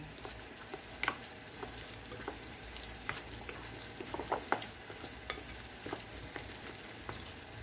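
Longganisa sausage mixture seasoned with oyster sauce and soy sauce, stirred in a frying pan: a steady soft sizzle with scattered scraping clicks of the utensil, close and fairly quiet, with no talk.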